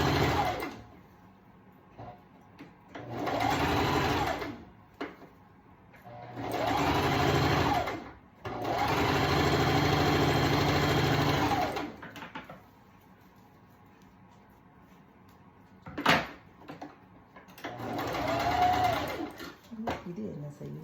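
A sewing machine stitches a garment starting from the armhole in four or five separate bursts of steady whirring, some short and some long. Quiet pauses and a person speaking fall between the runs.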